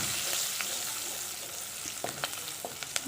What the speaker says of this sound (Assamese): পিঁয়াজখিনি ভাজি লৈ তেলতে হালধি দি দিছোঁ